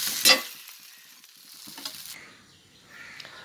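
A sharp hiss as black gram dosa batter hits a hot pan, then a softer sizzle fading under scraping and light clatter; close and fairly loud at first.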